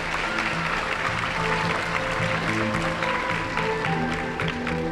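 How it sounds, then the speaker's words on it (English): An audience applauding a group of students at an elementary school math olympiad awards ceremony, steady continuous clapping throughout with background music or tones underneath. "Let's give this group another round of applause."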